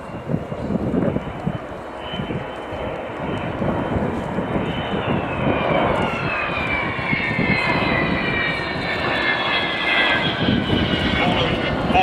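The Olympus jet engines of an Avro Vulcan bomber at the RIAT 2010 airshow roar loudly, then spool down with a falling, layered whine, while a voice talks over them.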